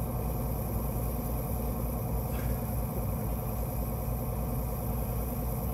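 A tractor engine in the Farming Simulator 19 game idles steadily, a constant mid-low rumbling hum at even loudness throughout, with no voices over it.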